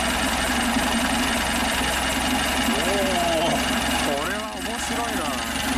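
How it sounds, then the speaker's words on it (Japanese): A horizontally opposed four-cylinder engine in a 43-year-old abandoned car idles loudly and steadily, with a throbbing rumble and a rattling belt, and the pitch rises and falls briefly as the throttle is blipped. "水平対向4気筒。"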